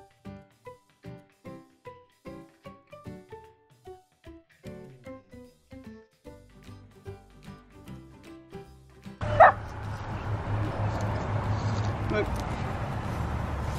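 A puppy barking in a rapid series of short yips for about nine seconds, close and clear, then whimpering as a noisy rush like outdoor or car ambience takes over.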